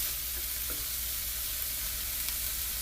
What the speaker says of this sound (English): Still frying up.